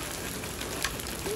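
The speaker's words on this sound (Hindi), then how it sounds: "ये देखें बारिश बरस रही है।" Heavy rain falls steadily in a village, a dense continuous hiss of drops striking surfaces close by, with one brief sharper knock partway through and no voices.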